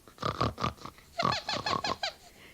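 Human voice imitating a pig's snorting, two close bursts of squeaky, nasal grunting snorts in quick rhythmic pulses, separated by a short pause.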